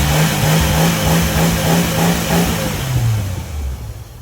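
A car engine revs steadily with its idle raised, a loud, continuous drone from a vehicle being checked for power steering fluid, easing down slightly toward the end.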